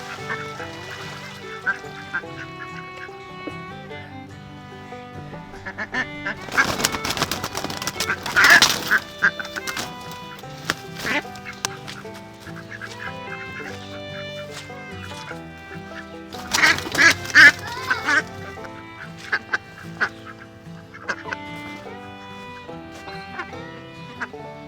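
Ducks in a new backyard run quack and honk repeatedly, with two louder bursts of clustered calls, heard over a steady bed of background music.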